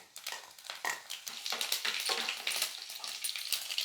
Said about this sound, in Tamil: கடுகு நல்லா பொறிஞ்சிடுச்சு